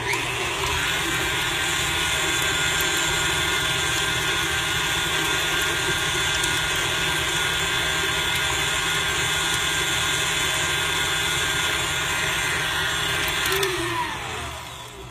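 An electric mixer whips honey and butter into a compound butter, giving a loud, steady motor whir that runs without a break and tails off near the end, with no voices.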